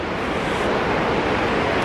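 A waterfall pours in a steady, dense rush of broadband water noise nearby, with no pauses or talking.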